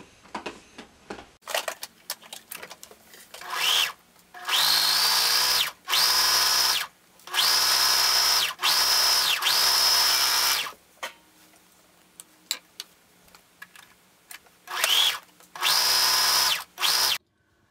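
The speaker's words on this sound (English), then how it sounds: "now that I finished serging around both of the squares" A serger overlocks the edges of pillow fabric squares in several loud, steady motor bursts of one to two seconds each, separated by pauses with faint handling clicks.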